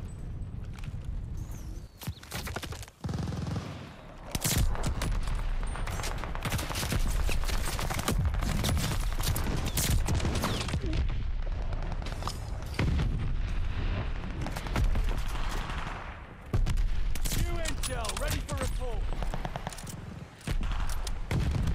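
Rapid gunfire and explosions in the video game Call of Duty Warzone, a dense run of loud cracking shots and booms with short pauses between bursts.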